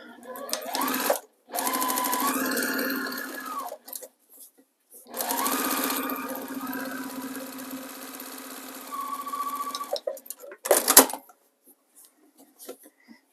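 Sewing machine stitching quilt sashing made from precut squares in a lattice pattern, with loud steady runs of whirring motor and needle in three bursts separated by pauses, ending in a brief final burst.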